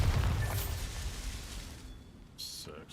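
A Bombarda blasting spell goes off in Hogwarts Legacy with a loud, low boom that rolls and fades over a few seconds. A sharper burst follows near the end.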